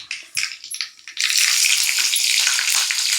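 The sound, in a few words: green chillies sizzling as they fry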